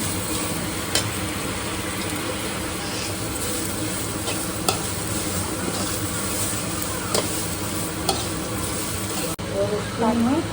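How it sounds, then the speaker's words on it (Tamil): Half a coconut, grated, sautéed in a frying pan for a home recipe, giving a continuous close sizzle with repeated spatula scrapes and stirring clicks and no talk. "நான் அரை மூடி தேங்காய் வந்து ஆட் பண்ணிக்கிறேன். நல்லா ஒரு 10 நிமிஷம் வதக்கணும்."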